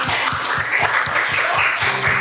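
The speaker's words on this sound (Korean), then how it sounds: "우리 예배 가운데 함께 하신 주님께 감사의 박수 올려드리겠습니다" A congregation claps in thanks during a Sunday worship service at a church, with steady, dense applause throughout and regular low thumps pulsing beneath it.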